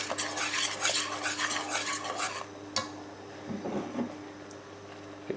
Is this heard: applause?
no